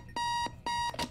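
Loud electronic beeps from a bomb in Keep Talking and Nobody Explodes: two long, even tones followed by a shorter, harsher buzz, close and clear with no voices.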